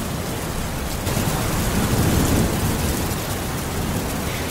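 A storm sound effect of thunder and rain makes a dense, continuous roar of rainfall with a low rumbling swell near the middle that fades back to a steady downpour.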